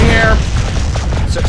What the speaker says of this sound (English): Sir, I'm shooting here.